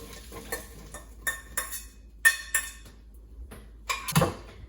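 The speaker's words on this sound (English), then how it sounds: "I'm keeping another pan, and I'm adding the onions here" Small onions tumble into a pan and get stirred for sambar, a run of bright metallic clinks and scrapes in irregular bursts, close and fairly loud, with no sizzle to speak of.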